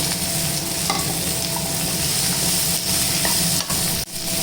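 Onions and tomato sizzle and fry in a pan for a chayote chutney, a steady, close hissing broken by a few stirring scrapes, with no talk.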